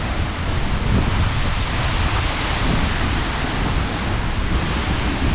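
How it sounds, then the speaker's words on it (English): Strong, cold wind roaring steadily behind Skogafoss waterfall in Iceland, a dense, unbroken rush of buffeting air and falling water buffeting the microphone, with no voices. "Like the wind's so strong and it's cold"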